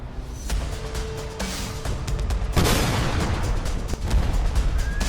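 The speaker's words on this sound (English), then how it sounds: "Every AT-4 shot is a massive blast, destroying the entire chariot cluster." AT-4 rocket blasts in a battle simulation video game, striking a massed cluster of chariots: a dense run of loud booms and crackling bursts that rise into a large explosion midway.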